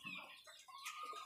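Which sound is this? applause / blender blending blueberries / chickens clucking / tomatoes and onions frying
chickens clucking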